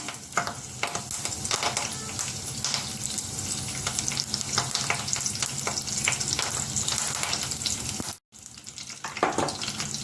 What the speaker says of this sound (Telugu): ఆయిల్ వేడెక్కింది కదా ఇప్పుడు రెండు కరివేపాకు రబ్బలు వేస్తున్నాను